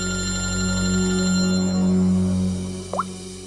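A telephone rings in a scene from the Indian crime drama CID, its steady electronic tone sustained for about three seconds before cutting off with a brief chirp, with no voices over it.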